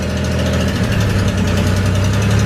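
A Datsun 240Z engine idles roughly up close, its throttle linkages slipping on the rod, giving a loud, steady low rumble with an uneven, lumpy pulse and no voices.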